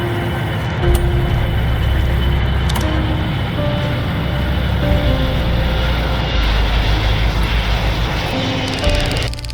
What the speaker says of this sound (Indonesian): Sebuah video memperlihatkan pesawat berbendera Cina melintas di atas piramida